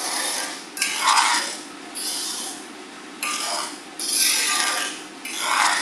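Bansi rava upma scraped and stirred with a utensil in a pan, a close, steady rasping rub in long repeated strokes with brief pauses between them.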